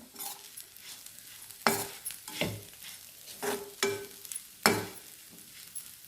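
Green banana slices are stirred and fried in oil in a pan for a crispy banana fry, giving soft sizzling under repeated scraping stir strokes that come in irregular bursts, close up with no talking.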